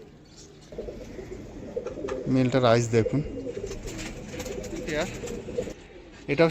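Pigeons of a sought-after breed coo close by in low, throaty rolling calls, repeated several times while someone talks over them.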